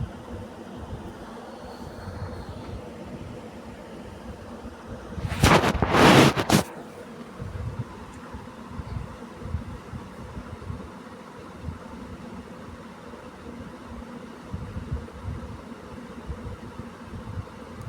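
A sewing machine stitches fabric for a lined blouse, sounding as a single loud mechanical run of about a second over a quiet room background.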